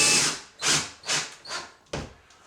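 A power drill drives a screw roughly 1.5 inches long into a wall anchor in short repeated bursts, each whir rising and fading, close by with no voices.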